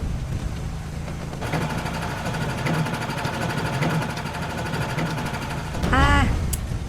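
A fueled generator in the video game Survive the Apocalypse drones steadily, a low engine hum with a dense ticking texture, topped near the end by a brief rising whine.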